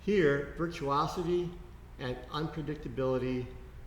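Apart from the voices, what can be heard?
No distinct noise like a dog, phone or traffic.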